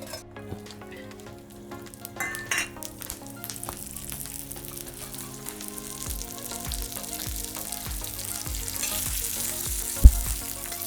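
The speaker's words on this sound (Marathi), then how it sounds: "परत त्याच तव्यातने थोडं तेल टाकून लसूण भाजून घेते." Garlic roasts in a little oil on a tawa for Malvani vatan, starting as a quiet crackle that builds into a loud, dense sizzle with occasional stirring clicks and one sharp knock near the end.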